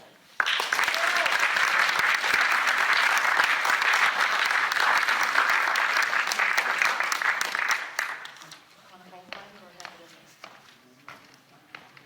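A stand-up comedy audience applauding to welcome a comic onto the stage, a loud sustained burst of clapping that lasts several seconds and then fades to scattered claps and quiet room noise.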